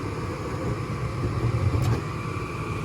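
A gas furnace with only one burner lighting, gas pressure turned way up, gives a steady low roar, with a brief faint click near the end of the short burst.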